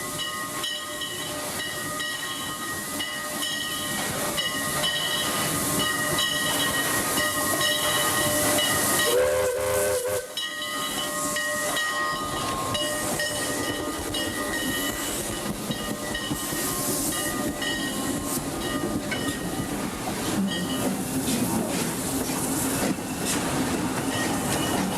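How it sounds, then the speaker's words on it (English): Mixed passenger-freight steam train from Sonsonate on a Central American railroad, heard alone at close range: a long continuous steam hiss with rumbling running gear, broken around the middle by a short whistle blast, then steady hissing and clanking. "At El Playón, the special banana gives way to train number 2, the mixed train from Sonsonate"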